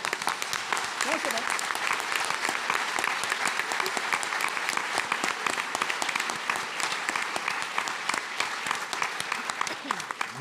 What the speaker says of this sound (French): Et ça vaut des applaudissements.